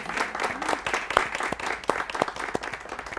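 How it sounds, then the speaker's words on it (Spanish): Moderate applause from a small audience, scattered hand claps forming an uneven patter with a few sharper individual claps standing out. "Un fuerte aplauso para ustedes."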